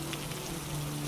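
Steady rain falls as a dense, even hiss with a faint low hum beneath it, continuous and unbroken, with no voices.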